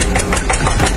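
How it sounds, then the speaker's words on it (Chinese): A tractor engine chugs steadily in a cartoon, a loud, continuous rough idling rumble with no voices over it. "这个拖拉机也太慢了吧。"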